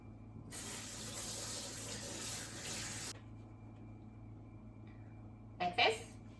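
Vegetables for skewered katsu are rinsed under a running kitchen tap, giving a steady splashing water flow for a few seconds that stops abruptly, followed by a brief clatter.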